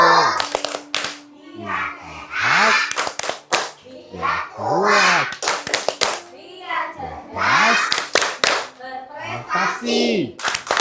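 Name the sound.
children clapping the 'tepuk susu' clapping chant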